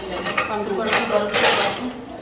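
A wok and metal kitchen utensils clatter and clink as they are handled while tal pitha is prepared at home, a steady run of close pot-and-pan knocks with brief metallic chinks, with a voice talking over part of it.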